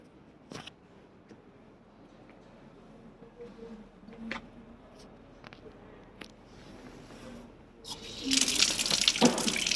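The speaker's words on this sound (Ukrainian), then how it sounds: "Цей фонтан функціонує досі." Water trickles and splashes steadily, with scattered clicks and knocks, then a louder rushing gush near the end, from a running fountain close by in the centre of Ancona, Italy.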